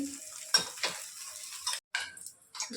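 Farali handvo batter hits a hot pan over a medium gas flame, giving a soft sizzle with several quick scraping and stirring knocks of a utensil against the pan, close and fairly quiet.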